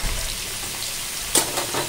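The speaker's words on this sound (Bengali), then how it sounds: "মাংসর আলু ভাজা বসিয়েছি" Potatoes frying in a pan, cooked to go with a meat dish, give a short, steady, close sizzle with a faint spatter and no voices.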